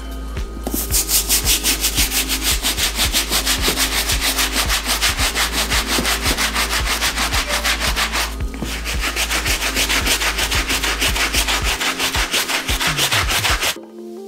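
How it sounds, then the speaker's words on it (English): A medium bristle brush scrubs the midsoles of Jordan 3 sneakers in steady, rapid back-and-forth strokes, loud and close. The scrubbing runs almost without a break for about fourteen seconds, with only a short pause midway. "I'm just gonna dive straight into the the midsoles and, and the uh, outsoles with the medium bristle brush"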